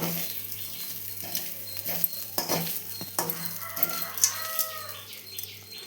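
Grated coconut sautés in a pan, with quiet stirring and light scraping over a low steady hum, while a rooster clucks and crows nearby in the background.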